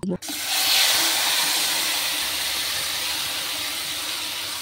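Hot oil hisses and sizzles in a wok in a steady, bright wash of noise that starts abruptly and carries on without a break.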